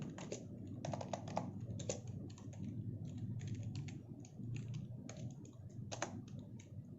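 Typing on a computer keyboard, quick irregular bursts of light key clicks with short pauses, faint and close against a low room hum, no speech.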